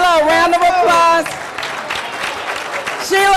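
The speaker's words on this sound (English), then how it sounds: "Give Sheila a round of applause." Loud crowd applause at a Sojourner Truth tribute fills the middle of the clip for a congresswoman. An amplified voice speaks over it at the start and again at the end.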